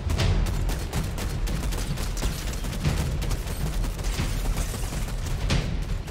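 Rapid gunfire from a video game shooter rattles continuously as a dense, steady barrage of overlapping shots and booms, fairly loud throughout.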